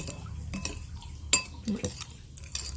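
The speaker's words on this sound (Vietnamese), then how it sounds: "Các bạn quậy cho nó tan cái phần hỗn hợp này ra đây ha" A spoon stirs and clinks against a bowl as fish sauce and sugar are mixed to dissolve, a run of irregular scraping strokes and sharp clinks up close, with no talk.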